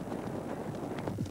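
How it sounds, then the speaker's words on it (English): A horse, or a zebra-like wild equine, galloping at top speed, its hooves drumming in a rapid, continuous rhythm of overlapping thuds, close and fairly loud. "top-speed gallop"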